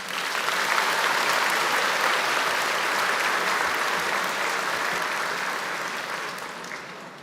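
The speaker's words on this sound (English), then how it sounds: "can we please give a round of applause for everyone involved?" Sustained applause from a graduation audience at the North Peace Secondary School ceremony for the Class of 2026, a steady dense wash of many hands clapping throughout, fading slightly at the end.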